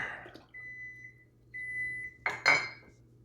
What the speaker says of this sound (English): the beeping you heard is me sterilizing my jars